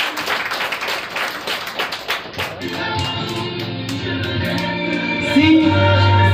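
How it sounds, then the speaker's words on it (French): Wedding guests clapping for an arrival, a brisk burst of applause up front that thins out after a few seconds, leaving a low sustained hum with faint voices and a rising tone near the end. "Applaudir chaudement l'arrivée."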